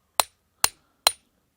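A hammer strikes a wedge or log while splitting wood during farm chores, three sharp, evenly spaced blows, close and loud, each ringing out briefly into silence.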